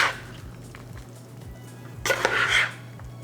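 Lentil salad being mixed with dressing in a bowl, giving soft scraping and clinking of a utensil against the bowl with a brief louder stir near the end, close up and quiet.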